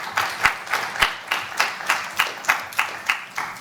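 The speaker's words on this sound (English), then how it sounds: "A round of applause for Sunny's answer there." An audience at a student election question-time event applauds after a candidate's answer, giving roughly a dozen evenly spaced, fairly close claps over a few seconds with no talk on top.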